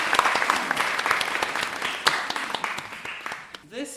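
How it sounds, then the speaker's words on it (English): An audience at a community and church anniversary celebration breaks into applause, a dense run of clapping that tapers off over a few seconds, with a voice at the end. "You can clap if you like."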